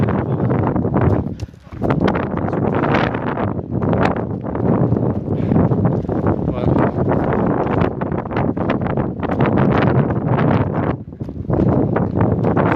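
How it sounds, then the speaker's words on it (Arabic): Gusty wind on a mountain roars against the microphone without pause, loud and buffeting from start to finish. "كاين الريح ما نعرف تسمعوا ولا ما تسمعوش"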